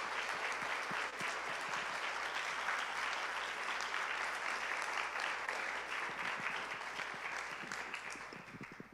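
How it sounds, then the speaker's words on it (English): Church audience applauding steadily for about nine seconds, a dense wash of many hands clapping that holds even and starts to thin toward the end, with no talking over it. "Let's give them another round of applause."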